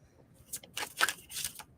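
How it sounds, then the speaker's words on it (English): A deck of cards being shuffled for a psychic reading, a few faint, quick riffling and tapping bursts in a quiet room. "This will take me just a second to shuffle and tap in."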